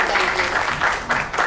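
Audience applause at a women's celebrity cricket event in India, a steady wash of clapping lasting the whole short moment at fairly even loudness.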